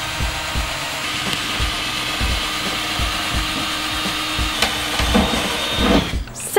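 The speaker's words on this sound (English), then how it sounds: "Pre-drilling some holes." A drill pre-drills holes in a van roof, a steady buzzing whir with rhythmic thumps running throughout, rising in loudness near the end.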